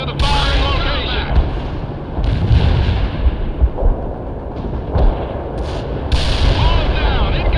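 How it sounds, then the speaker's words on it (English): Mobile mortars and artillery fire in a World in Conflict battle. Heavy booms and blasts go off again and again, with radio voices calling orders over them. "Mobile mortar here. Fire!"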